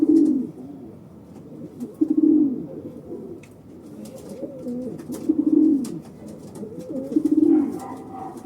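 Racing pigeons coo in a steady, repeated rhythm, four deep rolling phrases spaced about two seconds apart, close and clear with faint chirps behind.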